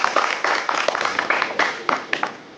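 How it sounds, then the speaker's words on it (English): Several people clapping at a pretend wedding celebration, a scattered, uneven round of claps at close range with brief pauses between bursts. "Let's all clap."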